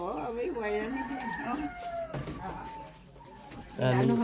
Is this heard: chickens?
yes